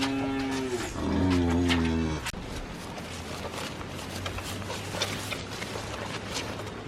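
A dairy cow on a homestead farm lets out one loud, close, drawn-out moo near the start, followed by quiet outdoor background sound and faint shuffling.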